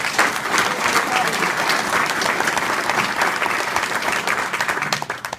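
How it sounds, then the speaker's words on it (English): Audience at a Washington state political gathering in Stevens County giving a sustained round of applause, dense and even throughout before tapering off at the end. "So I'm going to give him a round of applause, because I think he's awesome."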